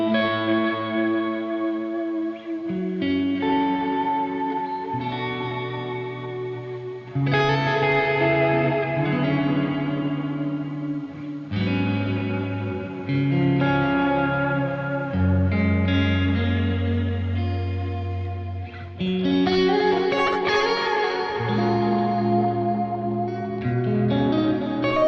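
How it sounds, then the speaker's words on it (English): Electric guitar chords played through a Line 6 Helix ambient snapshot with a space echo effect, washing into long repeating echoes and reverb, loud and continuous with no talk. "So we've got ambient here where we chuck a space echo."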